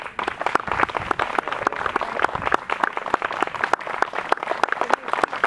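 Audience applause at an open-air Chopin music festival, a dense, continuous burst of many hands clapping close by, steady and lively throughout.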